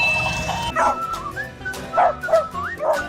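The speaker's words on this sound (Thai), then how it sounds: "Dog" Toy dog giving a series of short high electronic yips and barks, about five close bursts after a steady tone, with no talk.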